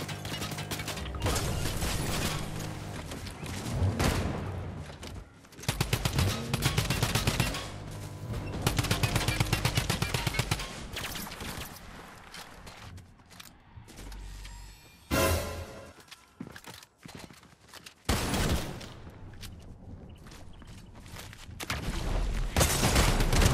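A drum gun fires in Fortnite, loud rapid bursts of automatic fire repeating over and over with brief pauses between volleys, plus a few sharp impacts and mechanical clatter.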